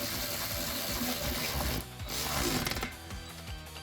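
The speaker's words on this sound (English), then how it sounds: "I just have to tighten these a little bit on my weight bench." Protmex cordless electric ratchet driving a 17mm socket to tighten bolts on a weight bench, a steady close mechanical whirring and clicking that briefly drops off, then resumes with fast ratcheting clicks.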